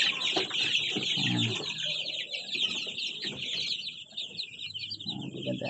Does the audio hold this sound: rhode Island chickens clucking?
yes